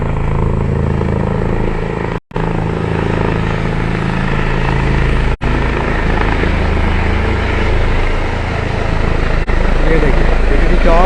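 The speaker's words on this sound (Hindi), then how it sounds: "हमारे सीएम साहब का हेलीकॉप्टर पीटीसी चौक पीटीसी ग्राउंड पे लैंड करने वाला है।" A helicopter landing at the PTC ground in Hazaribagh roars loudly and steadily throughout, a dense, close rotor and engine drone with only a few momentary dropouts.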